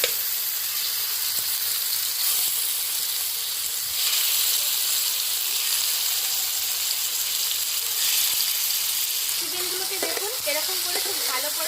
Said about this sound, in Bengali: অল্প অল্প করে ফ্রাই করে নিচ্ছি